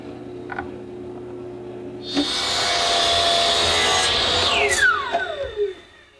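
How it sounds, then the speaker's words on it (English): A drill bores a 3/8-inch hole straight through a piece of wood. A loud, rasping grind starts after a couple of seconds, holds steady, then winds down as the bit spins to a stop. "Now I have to drill a 3/8 hole all the way through."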